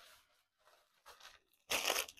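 A clothing zipper breaks in a short burst of harsh tearing and crunching, loud and close, following a few quieter rustles.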